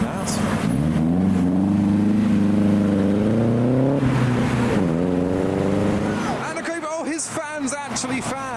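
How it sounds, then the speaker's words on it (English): An aluminium-bodied AC Cobra at a car show lets out a deep, loud engine roar that climbs through revs, dips, surges again, then gives way to crowd chatter and a burst of rising whoops. "We've got the aluminium Cobra racket, making a racket as ever."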